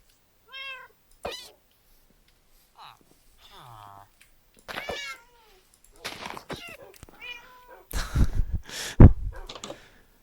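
Cats in Minecraft give several short, distinct meows spread across the scene, some clear and close, with a person speaking in between and clicking and game noises toward the end.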